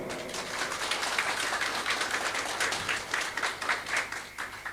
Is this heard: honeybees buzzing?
no